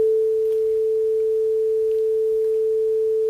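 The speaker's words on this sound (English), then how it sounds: "you should be able to hear the sine tone playing." Steady pure sine tone from a Bela embedded audio board running a C++ real-time audio project, a single unbroken pitch held evenly at constant loudness from start to end, with no other sounds.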